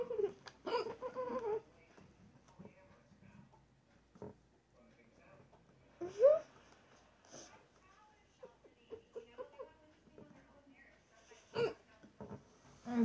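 Repeated hiccups from a person at home, short sharp squeaky gulps scattered across the span, mixed with nearby talking and shuffling.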